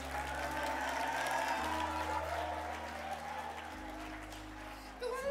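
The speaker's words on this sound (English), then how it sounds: "Come on. Clap hands." A church congregation claps and applauds together, a steady wash of many hands beneath low sustained music, moderately distant, with a voice speaking over it.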